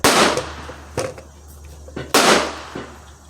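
Two sharp cracks from a .22 LR Remington 597 semi-auto rifle with a free-floated barrel, fired outdoors at a distant target, each a loud close report with a brief fading tail and about two seconds apart.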